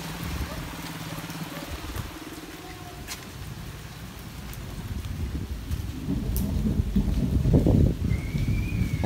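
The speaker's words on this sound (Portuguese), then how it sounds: "Chuva não tá pra brincadeira, já tá começando de novo." Steady rain hisses on surfaces outdoors, growing heavier toward the end, with a faint distant rumble underneath.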